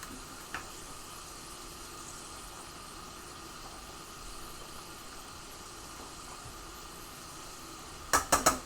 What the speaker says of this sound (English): let me just get in and stir up those noodles